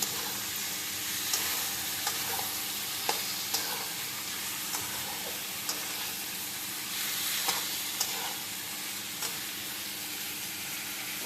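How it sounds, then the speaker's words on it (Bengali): Salted chicken pieces are stirred in a hot pan for a mango chicken dish, giving a steady sizzling hiss broken by occasional scraping clicks of the utensil, with no voices. "চিকেনগুলো দিয়ে আবার ভালোভাবে নাড়বো, যাতে লবণটা চিকেনগুলোর মধ্যে ভালো করে অ্যাডজাস্ট করে ভালো করে নাড়তে হবে"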